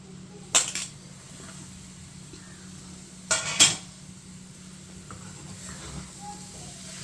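A spoon scrapes and stirs snake gourd and Bengal gram curry in a pan: two distinct clattering stirs over a low steady hiss of cooking, with quieter scrapes after.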